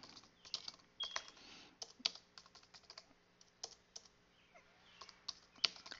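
Someone types an email on a computer keyboard, with irregular bursts of quick, soft key clicks and short pauses between words, close and faint with no one talking.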